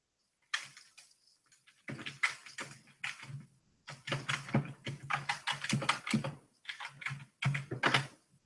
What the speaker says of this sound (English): Oh, we're both typing away.